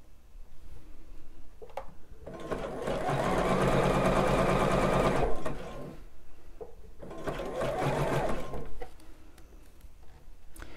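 Domestic sewing machine stitching a bra in two sustained bursts of fast, even whirring, close and loud, separated by a quieter pause with small handling noises.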